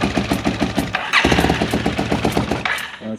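A Yamaha Super Ténéré motorcycle engine cranks with rapid rhythmic starter pulses, then catches and settles into a loud, uneven idle close by.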